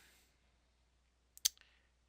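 A single computer mouse click, a crisp close tick with a faint trailing rattle, sounding alone against near silence.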